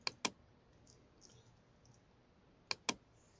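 Computer mouse clicks while making selections in Photoshop: two quick pairs of crisp, close clicks, one pair at the start and another near the end, separated by a quiet stretch with no talking.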